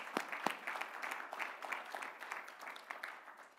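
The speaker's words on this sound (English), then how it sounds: "Please give them another round of applause." An audience at an engineering awards dinner claps for the winners. The applause is dense and continuous, with a few sharper claps standing out near the front, and it fades a little toward the end.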